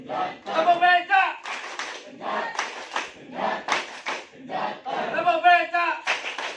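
A group at SMAN 1 Gondang shouts the tepuk becak chant together in loud repeated rounds, with crisp collective hand claps punctuating the rhythmic calls close up.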